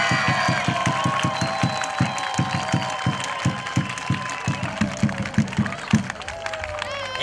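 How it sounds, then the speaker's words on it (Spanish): A crowd at a parish beauty pageant in Salango claps in a steady rhythmic beat, loud and close, with cheering and background voices mixed in. "¡Aplausos!"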